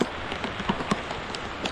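Heavy rain pouring down on a flooded farm field, a steady dense hiss of drops hitting surfaces, with occasional louder splats, continuous and fairly close.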